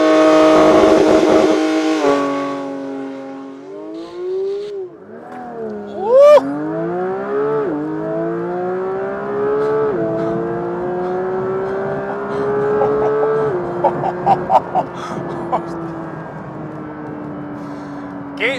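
A 2022 Porsche 911 GT3 with its six-cylinder boxer engine idles, then revs and pulls hard through several rising gears, loud and close, with sharp shift breaks and a few crackles before settling into a steady drone.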